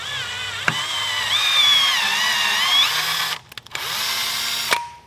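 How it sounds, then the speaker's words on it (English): A power tool drives an M5 tap into aluminum, a steady whining drone that holds for about three seconds, cuts out briefly with stuttering bursts, then resumes before stopping. "I have an M5 tap all loaded up here and it should just go right through."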